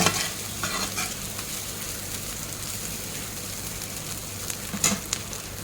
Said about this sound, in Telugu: మనము ఇప్పుడు మసాలాలు వేద్దాము దీంట్లో దీన్ని కూడా బాగా ఫ్రై చేసుకోవాలన్నమాట